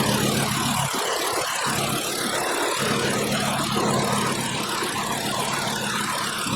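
Car engine idling with one cylinder misfiring during a cylinder-by-cylinder misfire check, a loud, steady close-up running note with a slightly uneven, lumpy rhythm and no talk.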